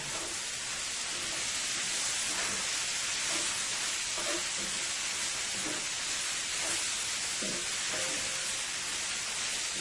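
Seasoning hits a hot pan in a Chinese-style stir-fry, giving a faint, even hiss of sizzling that holds steady throughout with small crackles and no speech.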